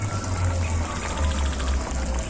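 Water pouring steadily into a pot of mixed vegetable curry, a continuous close gurgling splash lasting the whole moment with no voices.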